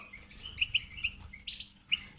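A small pet bird chirps in short, high, bright bursts, several separate tweets spaced irregularly, fairly close and moderately quiet against a calm background.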